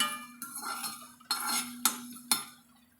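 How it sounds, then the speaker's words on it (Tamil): Ingredients are dry roasted and stirred in an iron kadai over a steady low hum, with scraping strokes and several sharp metallic clanks of the spoon against the pan, close up and without speech. "மிதமான தீயில் வச்சு ஒரு 2 நிமிஷம் வறுத்தோம்னா நம்மளுக்கு நல்லா பொரிஞ்சு வந்துடுங்க."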